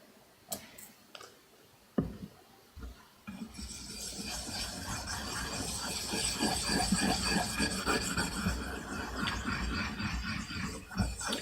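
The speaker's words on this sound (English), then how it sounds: "The first one's 400, and we're going to have to chop off a lot of metal here." A steel blade sharpened on a 400 grit stone, a few knocks at first, then a steady gritty rasping scrape that continues close and fairly loud.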